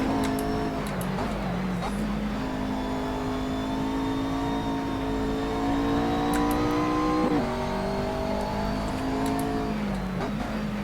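A GT3 race car in Assetto Corsa at Zandvoort revs up and down through gear changes, a loud buzzing engine note that climbs, drops and climbs again, with voices talking over parts of it.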